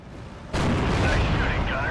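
A tank gun fires in the Steel Division war game: one sudden heavy boom after a half-second of quieter background, followed by a sustained rumbling roar.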